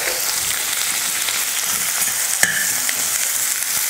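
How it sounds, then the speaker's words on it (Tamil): Sliced onions and curry leaves frying in hot oil with cinnamon and cloves for a mutton curry, a steady close sizzle with soft stirring scrapes and one sharp clink. "வெங்காயத்தை நல்லா வதக்கிக்கலாம்."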